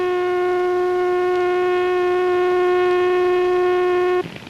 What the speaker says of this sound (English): An enemy plane is sighted, and screaming sirens warn the people.